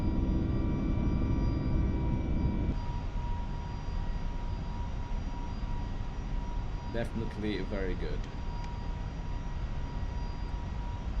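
Airbus A321neo jet engines in Microsoft Flight Simulator (FSLabs A321) hum as a steady, even drone with faint tonal whine, continuous throughout, while someone briefly speaks over it.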